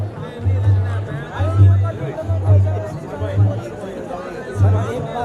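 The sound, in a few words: crowd at the Gauchar fair (mela), Uttarakhand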